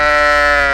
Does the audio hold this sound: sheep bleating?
yes